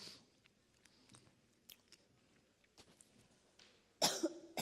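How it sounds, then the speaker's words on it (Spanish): A single loud, harsh cough bursts out near the end after several seconds of quiet room noise with faint clicks. "Mil disculpas por la tos."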